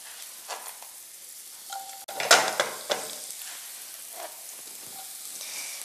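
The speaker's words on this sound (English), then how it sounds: "add my spring onions. Look at those green discs" Spring onions hit a pan and are stirred, giving a soft, close sizzle under faint scraping of a utensil against the pan, with one sharp clatter in the middle and lighter taps later.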